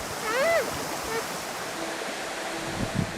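Heavy rain and water pour down in a steady broadband rush on a mountain path between the Andes and the Amazon, loud and close, with brief voices heard over it.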